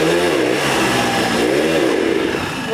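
An old two-stroke Hodaka motorcycle engine revving, a loud buzzing ring-ding that rises and falls in pitch with throttle blips, close and continuous.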